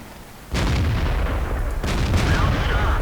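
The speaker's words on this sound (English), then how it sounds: "a lot of his health just gone just because we've got 4 guns firing at him" Tank guns boom in World of Tanks gameplay, two heavy loud blasts each followed by a long rumbling roar that fills the clip.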